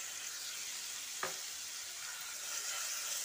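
Onion fries in oil with a steady, faint hiss of sizzling and a single soft stir scrape early on, quiet and even throughout with no talk.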